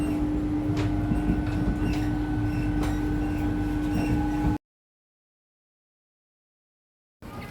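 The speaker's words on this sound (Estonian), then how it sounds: "Rongisõit." Continuous rumble of a train running on rails during a ride near Rome, with a steady hum and faint clicks, cutting to silence partway through before the noise briefly returns.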